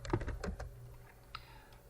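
Commands are typed on a computer keyboard during a Linux server partitioning task, with a quick burst of close keystrokes that fades into quieter scattered taps over a low steady hum.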